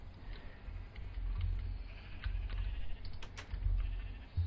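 Sheep bleating on a busy farm in a gardening video game, several short bleats scattered over a low rumbling background, fairly faint and with no talking.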